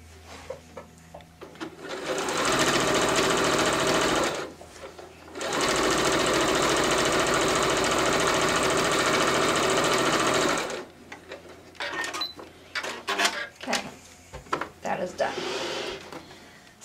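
A sewing machine stitches a quilt in two long, loud continuous whirring runs separated by a short pause, close by, followed by handling clatter and talking.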